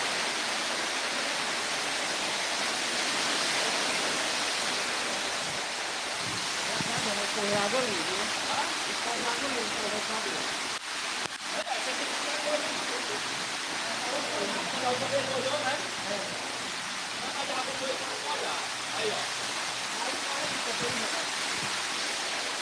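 Heavy rain pours steadily on a roof during a storm, with water dripping through leaks all around; a dense, constant hiss throughout with no talking.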